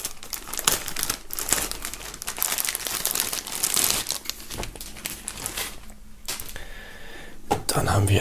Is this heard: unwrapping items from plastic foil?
yes